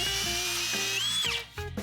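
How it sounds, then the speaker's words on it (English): A power drill spins up and whines as it bores a pilot hole for dowels into oak from an old desk, pitch rising then cutting off, followed by a short second burst. "mark where my holes needed to be drilled for the dowels on both the tabletop and on the end of the legs"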